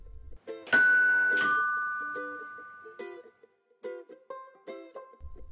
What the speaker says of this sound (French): la sonnette retentit.